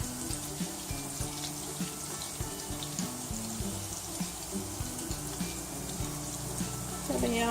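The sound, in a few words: galouti kebabs frying in a pan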